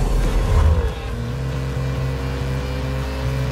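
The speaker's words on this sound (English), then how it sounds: "With the variable valve active exhaust system enhancing performance capability and delivering SVR's signature soundtrack." Jaguar F-Pace SVR V8 with variable-valve active exhaust, a loud rev that surges and then drops, followed by a steady burbling exhaust drone with no one speaking.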